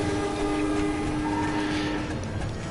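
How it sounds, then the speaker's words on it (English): A steady, loud rumbling drone with sustained tonal hum from a skull-shaped train in the MediEvil video game on PS4, continuous with no talk. "This train is so cool. It's just a big, like, skull."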